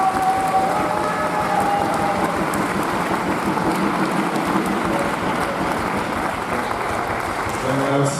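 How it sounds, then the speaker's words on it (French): Audience applause at the end of a professional table tennis match, a dense continuous clapping that holds steady and loud throughout. "il faut les applaudir"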